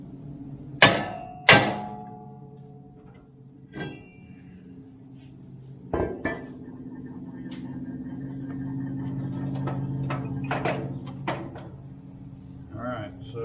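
Sharp metallic hammer blows on a Ford F150 brake rotor, a few loud ringing strikes spaced apart followed by lighter taps, with a person talking between them.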